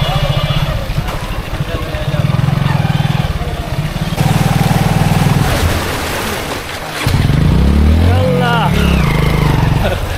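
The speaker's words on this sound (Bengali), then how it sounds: "বাইক বন্ধ শেষ" A motorbike engine runs steadily on a flooded street in a Sylhet suburb. The rough, loud idle rumble continues throughout and swells near the end, with people talking over it.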